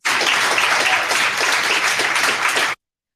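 A burst of crowd applause, loud and continuous for a few seconds before cutting off abruptly.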